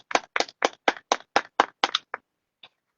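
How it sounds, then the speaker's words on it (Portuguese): Congregation clapping in unison at an open-air church service, about ten sharp, evenly spaced claps in a steady rhythm, close and fairly loud, with a final faint clap after a short pause. "Uma salva de palmas bem dada para Jesus"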